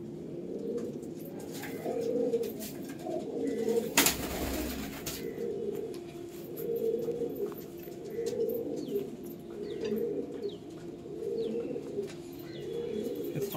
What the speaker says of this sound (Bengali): শ্রীলঙ্কা চোখের পায়রা।